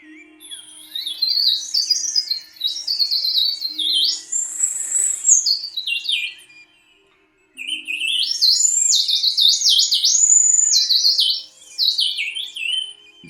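Lamy birdsong whistle imitating a winter wren's song: long strings of high, fluty, warbling notes and trills in two bursts separated by a brief pause, close and clear with no talking.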